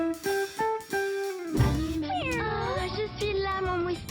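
A voice imitates a cat in a French TV advert, giving a few short meows followed by a longer, wavering, drawn-out mewing purr, close and fairly loud.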